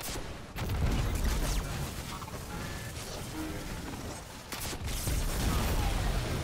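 Loud, dense combat in Destiny 2 with heavy rocket launcher blasts and booming explosions layered over a continuous roar, building again toward the end.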